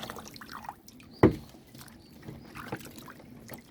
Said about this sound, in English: I'm going to wash him and get him all clean up.